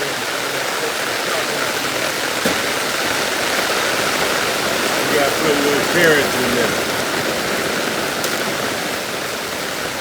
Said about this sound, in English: Oh, y'all hear that rain?